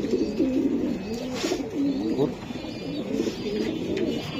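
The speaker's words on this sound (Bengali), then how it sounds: "মাশাআল্লাহ, কবুতরটা দেখাই দিলাম।" Racing pigeons, a male and female pair, coo in repeated low, warbling phrases close by, with a voice speaking briefly in the background.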